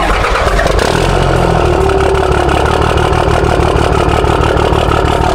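A Nissan 370Z/350Z fitted with a big aftermarket turbo kit idles loud and close after its first start, a steady rumbling, slightly lumpy cammed-sounding engine note with no speech over it.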